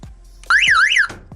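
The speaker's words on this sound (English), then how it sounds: "Now I'm going to reconnect the battery and then trigger the alarm." A new replacement alarm horn on a Mazda MX-5 NA Miata sounds one loud, close warbling wail that rises and falls for about half a second, bracketed by soft clicks.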